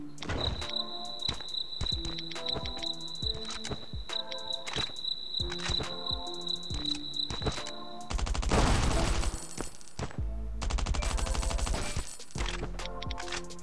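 Gunfire in the survival shooter Last Island of Survival: repeated shots and bursts over busy game ambience with a steady high tone, growing into louder, denser volleys in the second half.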